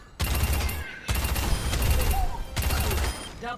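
Rapid automatic machine gun fire from a hero in the video game Overwatch 2, sustained bursts of gunfire separated by short pauses, loud and continuous, with faint voices underneath.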